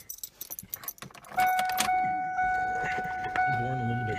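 Car keys jangle near a 1995 Ford Ranger during thermostat repair work, a burst of metallic clinks followed by a sustained tonal chime from the vehicle, with someone talking at the start.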